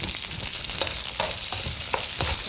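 Onions frying in a hot wok turned up high, a steady broadband sizzle with periodic scraping stirs roughly every half second, close and loud with no talking.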